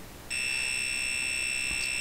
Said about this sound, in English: So it plays those beeps really fast and you have to count them